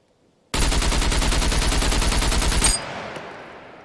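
A rifle in SCUM fires in full-auto: a loud, continuous burst of rapid shots lasting about two seconds, then a sudden stop leaving a faint fading tail in near silence.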